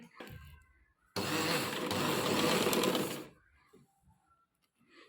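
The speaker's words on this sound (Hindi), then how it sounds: "अब पहले हम इस पे सिलाई लगाएंगे।" A sewing machine stitches a neck placket on a round-neck garment with a V placket, running in one steady, loud burst of about two seconds, with quiet before and after.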